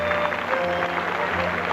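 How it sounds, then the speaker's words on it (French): An audience at a staged event applauds as hunting horn players walk on, a dense steady patter of clapping from a crowd filling the room for the whole moment. "on les applaudit"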